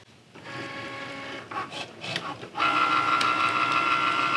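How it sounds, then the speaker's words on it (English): A Cricut cutting machine feeds in and cuts appliqué fabric for a quilt, giving a steady mechanical whir with tonal motor lines. A brief uneven stretch in the middle gives way to a louder, sustained run near the machine. "And it'll take it in and it will cut it for us."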